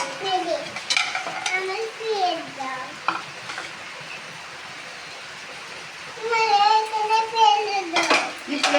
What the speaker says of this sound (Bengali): পকোড়া কড়া কড়া ভাজবে না